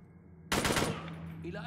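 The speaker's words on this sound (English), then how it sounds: "You died because I shot you in the knee." Gunfire in the video game Unit 13 breaks out suddenly as a loud, dense burst of rapid automatic shots, close up, fading into a ringing tail.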